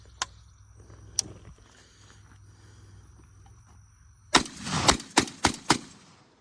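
A gun being test-fired sounds as a few sharp isolated cracks at first, then a quick burst of several loud shots close together near the end, over a faint background hum of insects.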